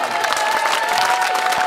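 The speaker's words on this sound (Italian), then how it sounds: "Femo un bel applauso" Clapping from a crowd at a Venetian independence flash mob in Mestre, a steady dense patter filling the whole stretch with a faint whistle-like tone above it.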